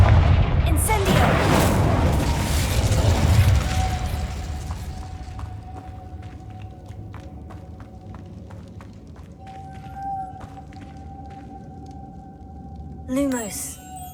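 An Incendio fire spell in the video game Hogwarts Legacy bursts out as a loud, roaring whoosh of flame for the first few seconds, then fades into a quieter ambience with faint clicks and a short swooping effect near the end.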